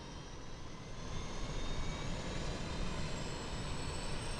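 Auxiliary power unit of a CJR-700 business jet spooling up in a flight simulator, heard from outside the aircraft as a steady, broadband whooshing roar that builds slightly and then holds, with no talking.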